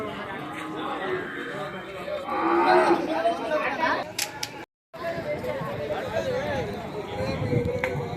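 Buffaloes at the Erragadda Sunday buffalo market give low moos amid crowd chatter, while someone talks nearby over the busy livestock-market noise.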